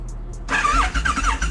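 A motorcycle engine fires up at the start of a ride, a sudden loud burst after a near-silent moment followed by close, wavering revs.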